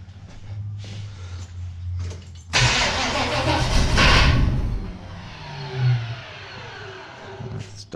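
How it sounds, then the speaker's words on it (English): A 1969 Chevrolet Nova's starter cranks the engine in one loud, rough grinding run that fades into a labored churn, with brief quieter mechanical sounds before and after. "Starter is not happy."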